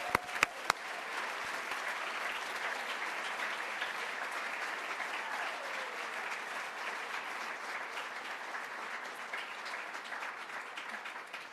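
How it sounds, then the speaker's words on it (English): A large audience applauds alumni at a girls' school Class of 2023 commencement, a sustained even wash of clapping lasting several seconds, with a few sharp early claps before it settles. "Let's clap for these alums."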